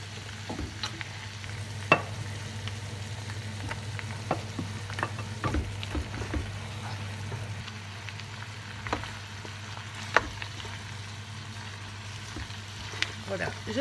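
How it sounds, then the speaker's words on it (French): Rabbit pieces browning in a pan with shallots, a steady close frying sizzle with scattered crackles and pops throughout, no talking over it. "je viens placer mes morceaux de lapin que je vais faire dorer sur chaque"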